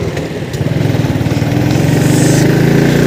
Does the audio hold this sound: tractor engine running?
yes